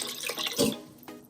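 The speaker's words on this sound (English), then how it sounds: "I'm just gonna add a little bit more water." Water poured into an Instant Pot while cooking mixed lentil dal, a brief splashing, trickling stream heard up close.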